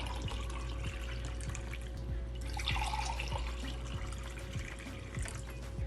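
Lemon juice is poured into a sugared shikanjabeen drink and stirred in. A continuous, close liquid trickle and swirl runs throughout, with faint clinks under it and no speech.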